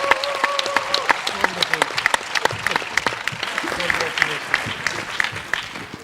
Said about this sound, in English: A round of applause for Ms. Massoudi and her excellent poem